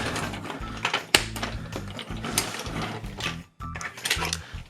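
Plastic parts of a Tobot V Storm.Joe transforming toy robot click and rattle into place, a run of quick close-up snaps and clatters with one sharper click near the start and a brief pause toward the end.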